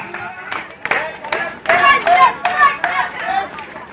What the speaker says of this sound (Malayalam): കൈയടിച്ച് കുട്ടികളെ പ്രോത്സാഹിപ്പിക്കുക.